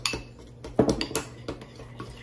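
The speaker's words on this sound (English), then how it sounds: "Then I'm going to stir it up like a madman." A spoon stirring peanut butter and syrup in a dish, a quick uneven run of close clinks and scrapes against the bowl, with a louder burst of clatter partway through.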